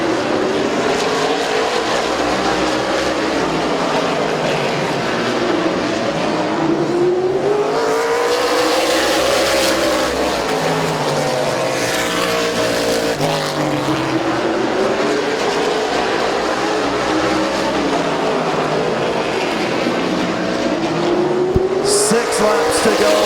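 Race cars roaring around the oval at Midvale Speedway, engines rising and falling as the pack sweeps past, with a track announcer talking over the continuous racing noise.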